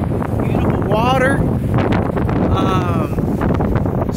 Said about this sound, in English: I don't know if you can hear me very good because it's pretty windy